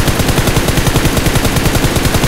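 Rapid machine-gun fire in a mobile battle royale game rattles loud and close in a continuous automatic burst with tightly spaced shots.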